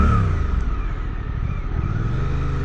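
A 2025 Suzuki GSX-8R motorcycle's engine turns over via its quick start system and settles into a loud, close, rumbling idle with slight revving, no voices over it.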